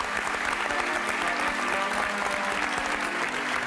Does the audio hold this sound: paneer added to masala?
no